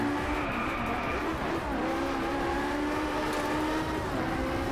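A Ferrari LaFerrari races in the Driveclub video game, its engine note climbing and shifting through gears while tires squeal, a steady loud mix of revving and skidding.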